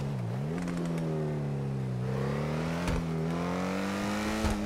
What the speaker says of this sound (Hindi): यहां पे कुछ ट्रक का आवाज सुनाई दिया ना तेरे को?